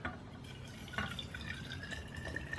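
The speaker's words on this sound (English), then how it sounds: "Then we're going to add warm water in there." Warm water poured into a beaker that already holds Mr. Muscle drain cleaner and aluminum balls: a soft, steady trickling and splashing with a few brighter drips, fairly quiet and close, with no talking.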